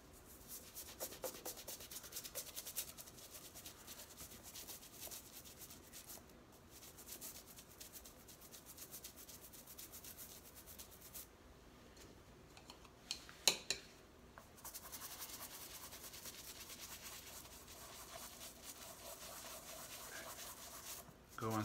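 A soft bristle brush scrubs PF Flyers canvas shoes in steady circular strokes, giving a continuous close, soft rubbing and scratching texture for the whole stretch, with one brief louder knock partway through.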